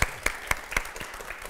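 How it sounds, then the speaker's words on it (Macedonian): Studio audience applauding a contestant on a Macedonian television game show, a brief burst of clapping with a few sharper claps standing out, fairly close and moderately loud. "Аплауз за господинот Драган."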